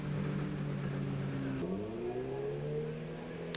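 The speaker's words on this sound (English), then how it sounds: "I believe that's one of the TRD supercharger packages on that Tacoma." A Toyota Tacoma drag-racing truck fitted with a TRD supercharger runs at a 1999 import drag event, its engine droning steadily and then shifting to a rising pitch midway, heard from a distance with no talk over it.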